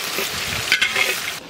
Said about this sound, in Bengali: এবার দিয়ে দেবো পেঁয়াজ কুচি